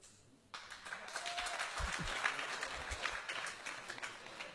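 After a short quiet moment, an audience bursts into applause for a speaker, and the clapping continues evenly at a moderate distance until the end.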